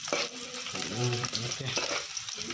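Onions frying in a pan for fish curry give a steady, close sizzle, with occasional stirring scrapes throughout.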